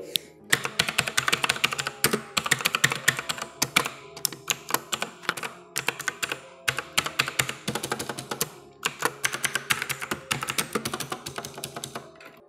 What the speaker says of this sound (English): when i just put my hands and type on it it is going to feel amazing guys because this is a mechanical keyboard